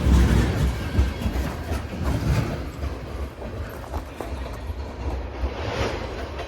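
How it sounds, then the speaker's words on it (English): A long CSX freight train of about 160 cars rolls past at Palmer, Massachusetts, with a steady close rumble and faint clickety-clack of wheels that holds even and loud throughout. "CSX M427 heading for Selkirk, New York."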